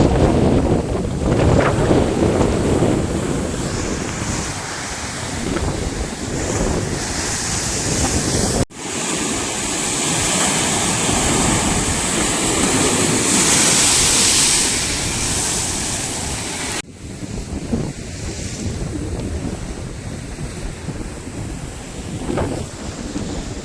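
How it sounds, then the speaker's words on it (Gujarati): Loud ocean waves crash and roar continuously on the Gujarat coast, with heavy wind buffeting the microphone throughout and brief breaks where the sound cuts off. "મિત્રો મોજા કેટલા ઉડે"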